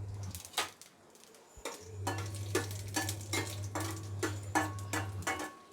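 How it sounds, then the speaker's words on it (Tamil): Mustard seeds and dried red chillies fry in oil in a pan for masala sundal, with quiet sizzling, crackles and spoon clinks above a low steady hum. "கடுகு பொரிஞ்ச உடனே 2 காஞ்ச மிளகா போட்டுடலாம்."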